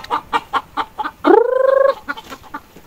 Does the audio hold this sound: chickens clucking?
yes